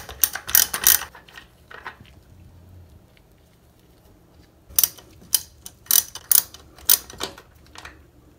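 Ratchet and socket, 9/16 size, loosening the nuts on either side of a toilet base over a hardwood floor: bursts of quick, close mechanical clicking near the start and again through the second half, with quiet gaps between.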